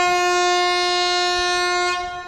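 Yesvantpur–Hosur MEMU train pulling out of Banaswadi station, its horn holding one long, loud, steady tone close by before fading slightly at the end.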